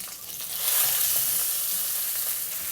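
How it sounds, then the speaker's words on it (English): Salmon fillet sizzling in a pan just after being flipped from its crisped skin side, a dense, steady, close frying hiss with a slight swell early on, no voices. "We want the salmon skin to be a little bit crispy, so we are pan frying it skin side down first."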